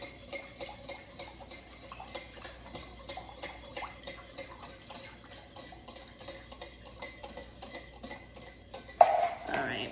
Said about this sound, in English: start pouring it in and mixing.